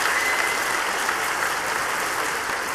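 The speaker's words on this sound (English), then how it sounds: "the Canadian crowd really got behind them in the Latin, and they're showing their approval right now" A Canadian crowd applauds a couple after their Latin dance at the 2003 IDSF 10 Dance Championships, dense steady clapping filling the hall, loud and continuous without speech over it.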